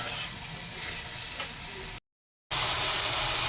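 Potatoes frying in a pan until light golden brown give off a steady close sizzle, which cuts out briefly and then returns louder and brighter.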